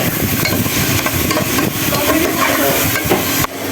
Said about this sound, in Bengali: চিকেনটাকে ভালো করে ভেজে নেওয়া হচ্ছে